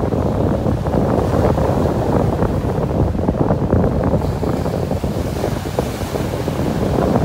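Ocean waves wash steadily onto a beach in North Naples, Florida, a loud continuous roar of surf mixed with wind buffeting the microphone, with no talking.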